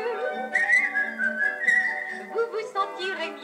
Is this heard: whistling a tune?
yes